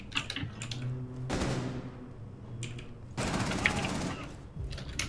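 Gunfire in Rainbow Six Siege comes as bursts of automatic shots, a short rattle followed by a longer sustained volley, moderately loud and close, with game sounds and a voice in between.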